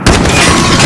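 A tank gun fires in Call of Duty Modern Warfare as one heavy, loud, booming blast that fills the short moment and keeps rumbling steadily throughout.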